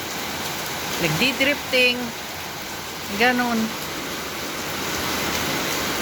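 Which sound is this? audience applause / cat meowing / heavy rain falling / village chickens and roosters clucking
heavy rain falling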